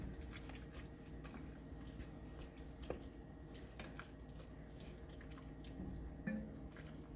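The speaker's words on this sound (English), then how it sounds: "you are going to stir it around so it gets incorporated into your soup" Ingredients are stirred into a pot of potato soup, making faint, wet squishing and dripping sounds with soft intermittent scrapes, quiet and close, without speech.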